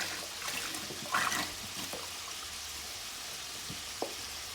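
Chicken broth poured into a hot pot holding bacon, a steady watery pouring and sizzling hiss with a louder splashing burst near the start and a few small clinks, close and alone.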